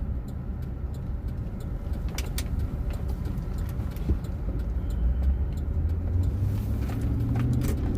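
A car cruising along a farm road produces a steady, close interior road and engine rumble with tire noise, constant in level and growing slightly heavier toward the end.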